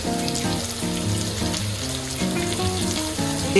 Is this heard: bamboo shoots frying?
yes